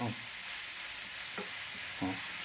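Sliced onions frying in a pan for egg bhurji, stirred so they don't stick: a constant soft sizzle with a few brief scraping strokes of the spoon against the pan at uneven intervals, close up.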